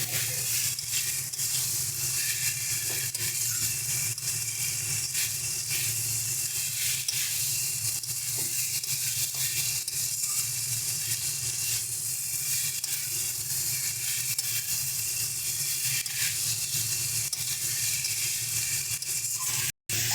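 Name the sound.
katla fish frying with masala in a pan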